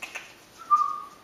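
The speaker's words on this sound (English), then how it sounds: "He's whistling at you." A person gives a single rising whistle, held clear and fairly near, to a turquoise yellow-sided green-cheek conure, preceded by a couple of faint chirpy sounds in a quiet room.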